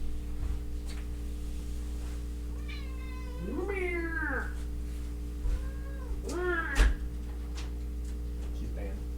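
A domestic cat indoors gives two drawn-out, rising-and-falling meows a few seconds apart, clear and fairly close over a steady electrical hum, with a soft knock between them.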